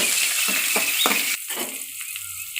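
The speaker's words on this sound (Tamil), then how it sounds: "இது நல்லா வதக்குங்க வெங்காயம் பொன்னிறமாக வதங்கட்டும்" Chopped onions fry in a pan for brinjal and raw mango sambar, a loud close sizzle with several scraping stirs before the frying noise drops and a few quieter scrapes follow.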